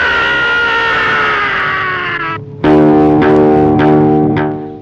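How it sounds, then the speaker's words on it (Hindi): A scream in a 1971 Hindi film aboard a ship: a loud, sustained harmonic cry that breaks off, then a second burst of strained shouting or wailing, close and filling the clip. "यकायक किसी के चीखने की आवाज आई।"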